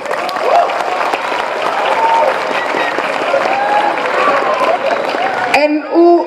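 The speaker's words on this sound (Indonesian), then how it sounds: "Tolong tepuk tangan buat NU." Audience applauding a speaker's call to clap for NU, sustained crowd clapping that cuts off abruptly near the end, followed by a short burst of voices.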